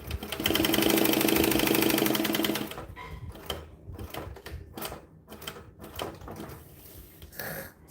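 A sewing machine stitching black thread runs in a fast, loud buzzing burst for a few seconds, then slows into a series of separate clicking stitches as it backstitches, with faint room noise between.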